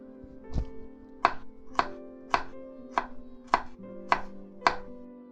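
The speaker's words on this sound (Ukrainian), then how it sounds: "А зараз нарізаємо чесничок." A knife chops garlic on a cutting board for courgettes cooked to taste like mushrooms, giving seven or eight sharp, evenly spaced thunks at close range with no talking.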